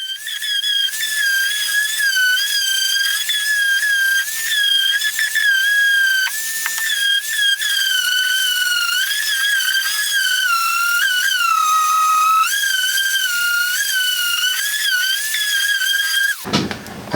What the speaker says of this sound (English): After that, I went ahead and began to sand down the board.